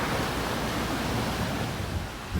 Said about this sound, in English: Now look at the speed of the water, it's amazing.